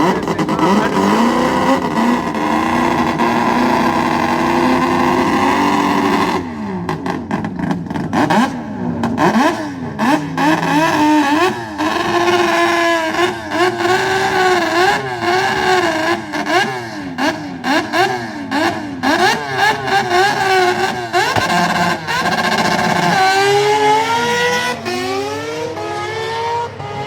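A Japanese dragster engine roars at a drag race, loud and continuous, with a sustained drone giving way to rapid revving bursts and sweeping pitch changes, close and overpowering with no voices.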